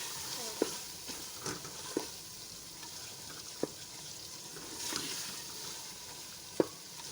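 Mashed eggplant bharta stirred into masala in a pan, giving a soft steady sizzle with scattered scraping clicks from the spoon, fairly quiet and with no talk.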